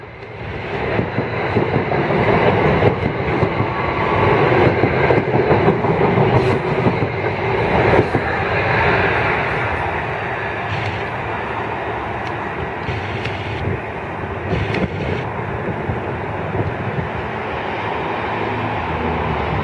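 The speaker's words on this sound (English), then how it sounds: "New Jersey Transit Hour 3 number 1462 on train number 3458, super local to New York City" A New Jersey Transit electric train with a raised pantograph rumbles past a station on the North Jersey Coast Line at Woodbridge, New Jersey, a loud, close, steady roar of wheels and cars that eases slightly toward the end.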